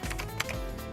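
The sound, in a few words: typing on a computer keyboard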